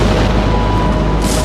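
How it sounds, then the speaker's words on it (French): A big explosion from a boat ramming a ship in a classic detective film, a dense, loud roar that fills the whole moment with no speech. "provoquant une explosion."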